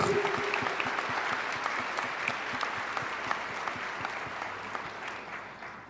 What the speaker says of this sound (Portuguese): Vamos aplaudir poderosamente a palavra do Senhor.